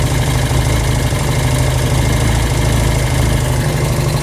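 Honda CB200 motorcycle engine idling with an aftermarket carburetor, a steady loud low throb close by, running evenly without pauses and no voices.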